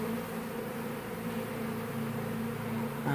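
Honeybees in a tree hive buzz in a dense, steady drone, close and continuous throughout with no talking.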